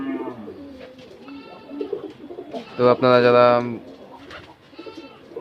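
Pigeons kept on a rooftop coo in low, throaty phrases, loudest in a burst midway, mixed with someone talking nearby.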